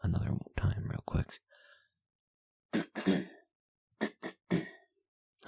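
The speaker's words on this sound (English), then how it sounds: "I'm going to try clearing my throat another time real quick." Someone clears their throat up close in several rough, forceful bursts: a cluster in the first second or so, then a few more scattered after a short quiet gap.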